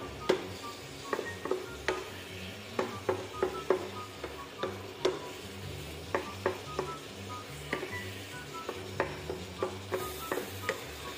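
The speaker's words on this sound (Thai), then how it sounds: "ผมมาปรุงรสนะครับแล้วผัดต่อครับผม" Pork with bamboo shoots stir-frying in a pan after seasoning with fish sauce and sauce, a steady sizzle under irregular, fairly close scrapes and clacks of the spatula against the pan, with no talking.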